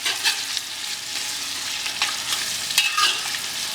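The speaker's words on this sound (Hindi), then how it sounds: "अब इसे हम अच्छा मिक्स कर लेते हैं हमारे प्याज में।" Boiled spiced mutton is stirred into onions frying in ghee for Moradabadi mutton biryani: close scraping stir strokes over a steady bright sizzle, with no talk.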